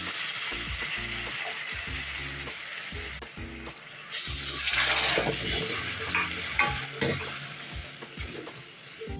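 Spoon stirring pineapple kesari bath in a pan with hot water added over a low flame, repeated scraping strokes with a steady sizzle that grows louder midway, close and alone without talk.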